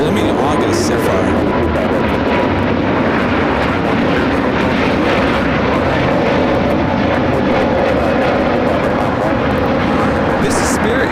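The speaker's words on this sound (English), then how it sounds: "This is Spirit Airlines 2542 taking off to Atlanta on the A320neo" A Spirit Airlines A320neo bound for Atlanta takes off from LAX on a gloomy overcast day, its loud, constant jet roar filling the scene while people talk over it nearby.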